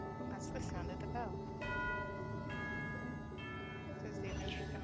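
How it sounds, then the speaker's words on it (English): Bell chimes ringing in the Genshin Impact game world, a few sustained tonal strikes spaced across the moment, layered over soft ambient game music and background sound. "That's the sound of the bell."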